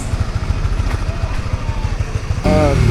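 A motorcycle engine idles with a steady, rapid thumping pulse, loud and close, then revs up briefly near the end as someone speaks.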